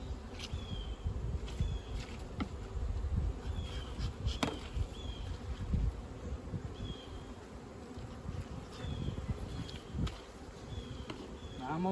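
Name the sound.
bees buzzing in hive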